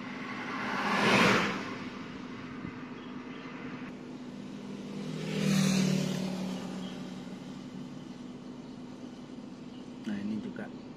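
Tanker trucks hauling crude palm oil pass along a plantation road, making two distinct whooshing swells of engine and tyre noise a few seconds apart against a low steady hum, with faint talk in the background.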